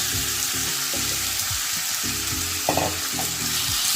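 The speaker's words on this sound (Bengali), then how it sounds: "আমরা ম্যারিনেট করা চিকেনটাকে এর মধ্যে দিয়ে দেব।" Marinated chicken hits a hot pan for chicken tehari and sizzles steadily, a dense frying hiss running throughout with a few louder bursts as pieces land.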